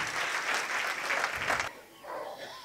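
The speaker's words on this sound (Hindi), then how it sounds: "एक बार मेरे सम्मान में भी तालियां बजा दो ठीक ठाक सी" Audience clapping at a Holi special Hindi kavi sammelan, a dense burst of applause that cuts off sharply, followed by a faint voice beginning to speak.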